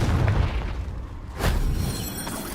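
A Confringo spell explosion in the video game Hogwarts Legacy, a muffled boom burst with a rumbling tail, followed by a second sharper blast over low background rumble.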